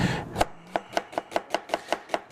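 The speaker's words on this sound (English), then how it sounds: "I've got some onion here that I want to, I'm just going to cut this real thin" An onion being sliced thinly with a knife, about ten crisp, evenly spaced chops on a board in quick steady rhythm, close and clear with no talking.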